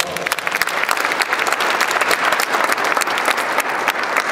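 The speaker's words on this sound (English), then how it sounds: "let's just give those legends a round of applause." An audience applauds continuously, dense overlapping claps holding at a steady, lively level throughout with no voices standing out.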